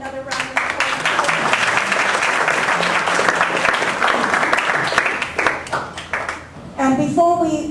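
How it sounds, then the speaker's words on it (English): A room of attendees at an LA2M business meeting gives a sustained round of applause that holds steady for several seconds, then thins out as a voice begins speaking near the end. "Another round of applause."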